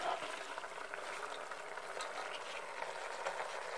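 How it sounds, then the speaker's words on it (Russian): Mushroom marinade and cabbage going into a hot multicooker, a soft steady bubbling sizzle with faint stirring clicks, fairly quiet and continuous with no talking. "Теперь влейте немного маринада от грибов и положите капусту."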